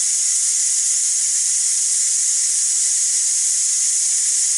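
A Ninja Foodi Deluxe pressure cooker vents steam through its pressure relief valve in a loud, steady, unbroken hiss that holds evenly throughout with no talk.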